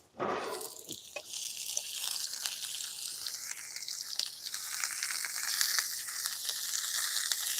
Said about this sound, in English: I can hear my stuff starting to sizzle in the pan here.